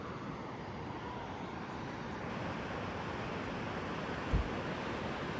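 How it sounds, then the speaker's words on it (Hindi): The Sindh river in Kashmir flows below a roadside viewpoint, heard as a steady, distant broadband rush with one brief low thump near the end. "नीचे सिंध नदी चली हुई है भाई, यहाँ तक आवाज़ आ जाएगी आपको"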